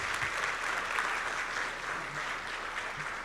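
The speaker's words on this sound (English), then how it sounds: "So a big applause to all the community members," Audience at WordCamp Kerala 2023 applauding, a dense steady clatter of many hands clapping indoors, fairly distant and even throughout.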